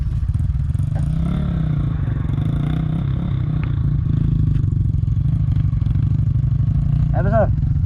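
A Winner X150 motorcycle runs steadily and close by, its engine note droning throughout, with a brief scraping clatter of the exhaust catching the ground near the end.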